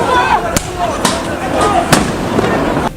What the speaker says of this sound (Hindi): एक पुलिस वाला फिलिस्तीनी लोगों के एक मकान के अंदर भी स्टन ग्रेनेड फेंकता दिखा